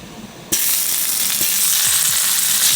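Homemade butter hits hot oil in a pan for a creamy lobster pasta, setting off a sudden loud, dense sizzle that holds steady to the end with a few faint clinks of utensils underneath.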